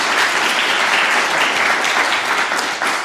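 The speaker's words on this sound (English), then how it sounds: "Give a huge, huge round of applause for them" Loud, dense applause from a full audience at a county poetry recitation competition, a steady unbroken wash of many hands clapping that carries on for the whole stretch with only a slight dip near the end.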